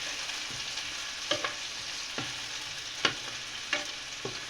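Garlic, onion and tomato sauté in a hot pan with a steady sizzle, broken by a few sharp scrapes of a spatula stirring at irregular intervals, close and moderately loud, with no voices.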